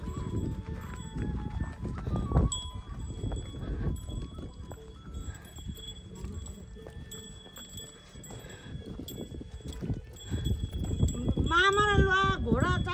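A horse's hooves clip-clop on a rocky Himalayan mountain trail on the Gosaikunda trek, a steady uneven rhythm with voices and other trail noise around it.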